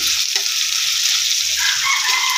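Shrimp paste frying in a pan for Bicol Express, a loud continuous hiss of sizzling oil held steady throughout with faint low knocks beneath.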